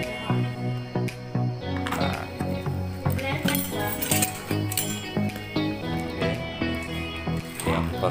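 A set of seven stainless steel knives, including a meat cleaver, clinks and rattles as it is unpacked: a series of bright metallic taps at an irregular pace, close and fairly quiet.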